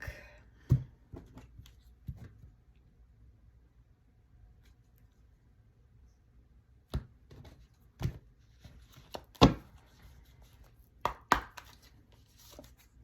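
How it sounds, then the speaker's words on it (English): A tarot card deck being cut by hand, quiet isolated clicks and soft slaps of cards in small clusters, close by, separated by near silence. "I'm gonna cut the deck."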